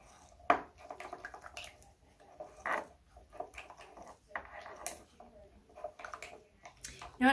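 Spoon scraping and tapping in a bowl while a blue pudding mixture is stirred by hand, a soft intermittent clatter with a few sharper knocks and quiet gaps, close by with no talking.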